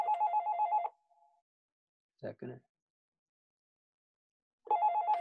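A telephone rings indoors with a warbling electronic trill in two bursts separated by a pause, loud and close; a person speaks a word briefly between the rings.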